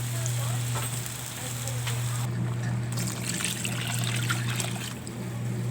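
Water poured into a cooking pot of sautéed squash and mung beans, giving a continuous splashing trickle over a sizzle, with a steady low hum underneath throughout; near and moderately loud.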